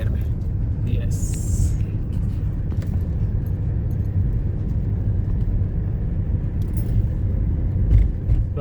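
A Tata Tiago climbs a rough mountain road in the Spiti Valley in second gear: a steady, loud low engine drone and rumble from inside the cabin, with occasional rattles and jangling.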